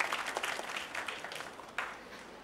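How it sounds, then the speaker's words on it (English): Listeners at a radiology seminar applaud the quiz runner-up, a steady crackle of hands from a small room audience that thins slightly toward the end, with one sharper clap standing out. "Clap for him, please."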